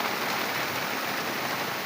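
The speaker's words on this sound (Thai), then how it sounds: "ชมบรรยากาศฝนตก" Steady rain falls at Khao Kho, a dense even hiss of drops with no pauses, moderately loud and with no voices.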